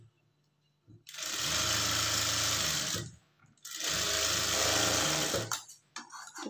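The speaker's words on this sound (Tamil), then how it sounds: "எக்ஸ்ட்ரா கிளாத்தை அப்படியே மடிச்சுட்டு தையல் போட்டுக்கலாம்." Folded blouse cloth edge is sewn on a sewing machine in two steady, loud runs of about two seconds each, divided by a short pause, with no talk.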